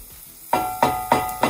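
Calabacitas vegetables hit a hot pan in four separate bursts, each one a sharp sizzling rush that fades before the next handful lands. The sound is close and there is no talk.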